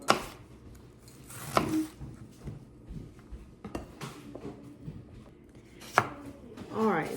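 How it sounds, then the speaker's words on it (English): A knife dicing a raw red onion on a cutting board, a few sharp chopping knocks spread across the stretch with quieter taps and board scrapes between them, close and otherwise quiet. "So I'm gonna slice thin and then just cut the other way and make them real small little"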